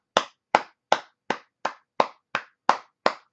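Slow, evenly spaced hand claps, nine sharp claps about a third of a second apart, close and loud with silence between, from a scene in the horror film The Task (2011).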